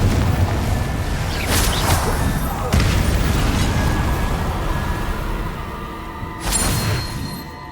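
Confringo blasting spell explosions in Hogwarts Legacy, loud booming bursts with rumbling tails, two or three distinct blasts over a continuous noisy game backdrop.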